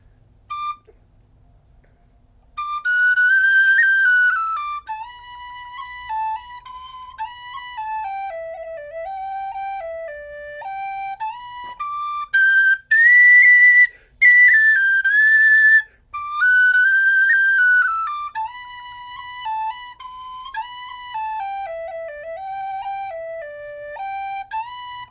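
A McNeela Wild Irish soprano D tin whistle plays a lilting melody of clear, bright stepwise notes with short gaps, close and fairly loud, with no voices.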